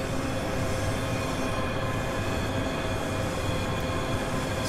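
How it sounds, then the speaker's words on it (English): A ScotRail Class 385 electric train arrives at a station in the Train Simulator game, producing a loud, steady rolling rumble and hiss that holds constant without voices. "The train now approaching platform 9 is for Edinburgh Waverley."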